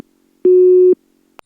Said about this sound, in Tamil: எம்பது தடவை அவனுக்கு ஃபோன் அடிக்கிறது, எடுக்கவே மாட்டேன்றானே